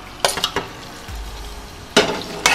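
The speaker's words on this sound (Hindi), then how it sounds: "ये देखो अब मखरूनियाँ फ्राई कर रही हूँ।" Macaroni fries in a pan, with broadband sizzling and a few scraping stirs in short bursts near the mic and no talking.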